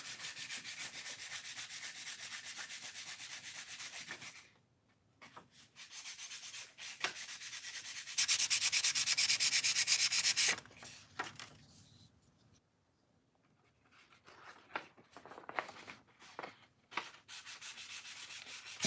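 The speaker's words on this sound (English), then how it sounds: "I'm also dry sanding" A primed designer toy is dry sanded by hand in rough, scratchy strokes. Long steady passes give way to shorter bursts and quiet pauses, close and fairly loud.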